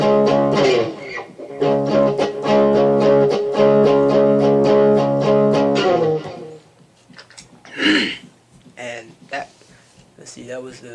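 Guitar plays the intro and chorus of a punk song, a busy run of strummed chords for about six seconds before dropping away to faint picking and scattered quieter sounds.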